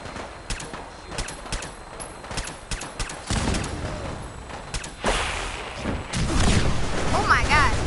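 Gunfire in Fallout 4 cracks out as sharp, repeated shots at uneven intervals, some bursts clustered and louder toward the end, mixed with game sounds and a player's talk.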